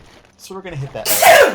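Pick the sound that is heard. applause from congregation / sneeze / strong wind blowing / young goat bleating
sneeze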